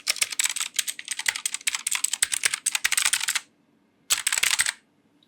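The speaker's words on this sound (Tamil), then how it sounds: "இப்போ கூட நான் டைப் பண்ணிட்டு இருக்கேன், இங்கே பாருங்கள் சவுண்டு குவாலிட்டி சாட்டிஸ்ஃபையிங்காக இருக்குது" Fast typing on an AULA S2022 mechanical keyboard with blue switches, a close, crisp stream of clicky keystrokes that pauses briefly, then resumes in a short burst before stopping.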